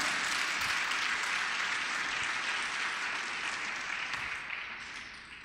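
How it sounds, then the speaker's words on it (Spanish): Applause from a church congregation fills the space, a dense, continuous wash of clapping that holds steady before gradually thinning and fading toward the end, with no speech over it. "fuerte el aplauso a él"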